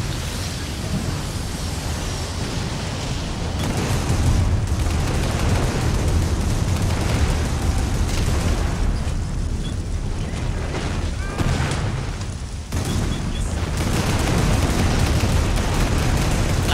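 Dense, continuous battlefield rumble of mortar explosions and gunfire in the Men of War Assault Squad 2 real-time strategy game, a 4v4 match on a town map, loud and sustained with overlapping booms and no clear speech.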